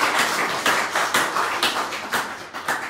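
Hands clap in a loose, uneven rhythm, a few people applauding together at a Santa Muerte spiritual gathering, fairly close and steady for a few seconds.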